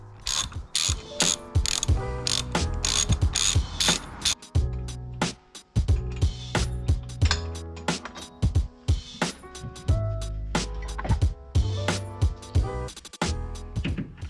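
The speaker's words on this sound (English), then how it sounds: "You'll need to grab a Torx bit and loosen up these bolts that are holding on your grab handles" A ratchet clicks rapidly in repeated bursts with short pauses while a Torx bit loosens the bolts holding the grab handles on a Jeep roll bar, close and fairly loud with no talking.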